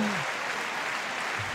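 Crowd applause at a 2013 German Open badminton doubles match follows a long rally, a steady broad wash of clapping that holds through the whole moment, with a brief low thump near the end.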